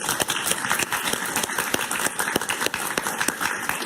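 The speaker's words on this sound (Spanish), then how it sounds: "Un aplauso para Alan, por favor." Audience applause fills the room at a televised interview, a dense, steady wash of many hands clapping at once with no talking over it.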